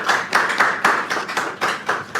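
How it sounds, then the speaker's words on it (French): Quick rhythmic clapping from a small group, close by, a series of sharp claps over about two seconds. "en la personne de Aya Sadaredi qu'on applaudit très très fort"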